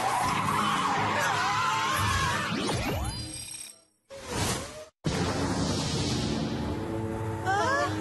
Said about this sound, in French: Sam, appuie sur les freins!